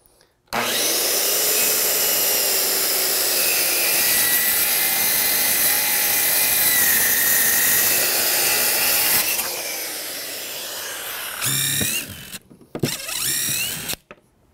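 Power saw cutting through shed lumber clamped to a table, a loud sustained whine and rasp for about nine seconds, then a quieter spin-down followed by a few short bursts of cutting.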